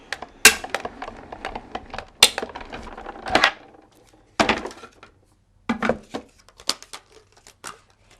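Scissors cutting through a sheet of cardstock for the back of a handmade 4x4 card: a series of sharp, close snips and crisp paper crunches in irregular bursts, with short pauses between cuts and no talk.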